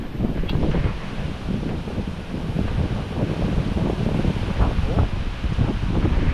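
Strong seaside wind buffets the microphone in a dense, continuous roar, with surf-like rushing and rumbling gusts filling the whole stretch at steady, loud intensity; no talking.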